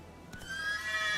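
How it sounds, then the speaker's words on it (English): Geralt's horse Roach in The Witcher 3 gives a single close whinny with a sharp onset and a bright, drawn-out neigh that holds steady to the end, with no talk over it. "Luckily, Geralt can always count on his horse Roach to help him in his travels."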